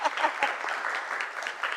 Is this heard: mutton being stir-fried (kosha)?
no